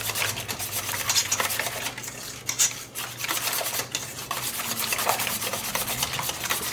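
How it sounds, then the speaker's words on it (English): A whisk scraping briskly around a bowl of 18% table cream for a creamy filling, steady rubbing strokes with occasional clinks, close and loud with no talking. "Get everything whisked good."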